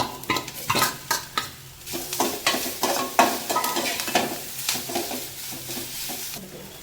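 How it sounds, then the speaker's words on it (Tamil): Potatoes are stirred into sautéed onions in a pan. A spoon scrapes and clatters in quick, repeated strokes over a continuous sizzle, loud and close, with no talking. "வெங்காயம் வதங்கிடுச்சு நம்ம வந்து உருளைக்கிழங்கு சேர்த்துக்கலாம்"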